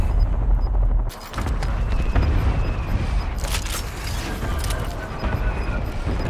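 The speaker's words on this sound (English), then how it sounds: "Hostile airstrike incoming." Dense, loud barrage of gunfire and booming airstrike explosions in the Black Ops 6 video game, rolling continuously with sharp blasts layered over a sustained roar.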